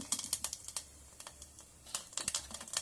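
Mustard seeds pop in hot oil for a green pigeon pea (toor dal) sundal, making faint, irregular sharp crackles and ticks that bunch up in quick clusters.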